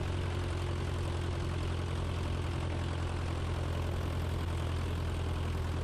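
A small aircraft's engine runs steadily near a runway intersection before departure, a loud, unbroken droning hum with a constant low throb and no voices.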